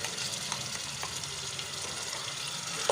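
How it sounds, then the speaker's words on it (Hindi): Marinated chicken fries in oil with a faint, even sizzle running steadily through the short stretch, with a soft stirring touch or two. "इसमें ऑयल डाल रहे हैं और इसमें हम ये चिकन मैरिनेट जो की थी ये इसमें डाल देते हैं"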